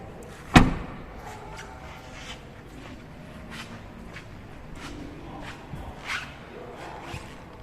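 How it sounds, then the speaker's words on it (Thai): The door of a 2021 Ford Ranger XL pickup shuts with one sharp, close thud, followed by faint handling noises and soft clicks. "เปิดปิดประตูครับ"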